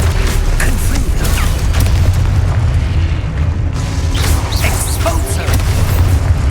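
Booming spell blasts in Hogwarts Legacy, the Confringo fire spell among other casts, rumble continuously with dense low-end explosions over several seconds, loud and close, with voices calling out over the action.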